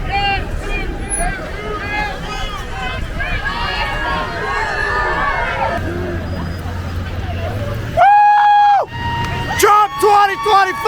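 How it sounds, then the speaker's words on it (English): A rally crowd cheers and whoops for a police officer in Howell, Michigan, a dense roar of many voices with shouts rising above it, plus loud whistles or horn-like calls near the end. "They're cheering the police officer."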